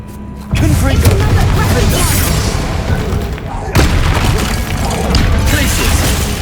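The Confringo blasting spell in Hogwarts Legacy bursts as loud, booming blasts with crashing debris that fill the whole stretch, while a voice calls out over the din.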